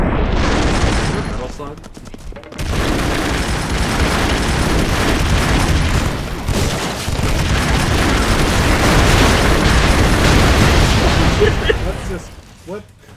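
Rocket launcher explosions in the video game Hackfort, heavy booming blasts and crackling bursts piling up loudly for over ten seconds, with people talking over the chaos and a short lull near the start.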